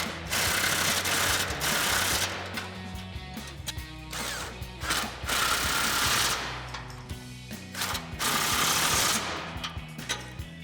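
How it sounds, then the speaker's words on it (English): A 16mm socket and wrench tightening the hardware on a heavy-duty front bumper of a 2021-2023 Ford F-150, close ratchet clicks in rapid bursts separated by short pauses. "we can grab a 16mm socket and a 16mm wrench to tighten down our hardware."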